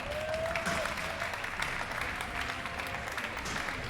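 An audience at an amateur scooter competition final applauds a finalist, a steady and fairly distant wash of clapping with a faint whistle near the start.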